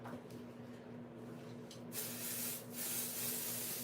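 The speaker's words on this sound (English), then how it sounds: "I'm going to spray this with Pixie Spray." Pixie Spray hisses onto a handmade paper card in two or three quick bursts, near and fairly loud, following a quiet stretch.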